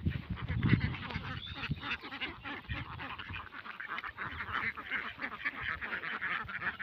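Several ducks quack and chatter close by while feeding on chopped water hyacinth in a Bangladeshi village, a busy overlapping stream of nasal calls that continues throughout, no talking.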